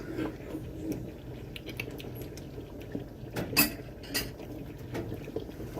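A spoon stirs low sugar peach jam without pectin as it cooks in a pot, producing irregular soft scrapes and clinks against the pot with quiet bubbling beneath.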